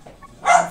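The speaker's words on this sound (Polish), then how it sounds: "Co za gówniany pies." A single short dog bark from Portal 2 sounds close and fairly loud after a quiet moment.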